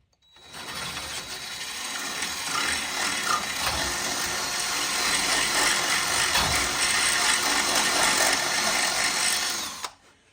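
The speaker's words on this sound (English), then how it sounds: "We're gonna drill this out so those will slide in easy." A power drill whirs continuously for about nine seconds, loud and close, with a grinding metallic edge, starting and stopping abruptly, drilling out a front brake part on a rusty Mustang.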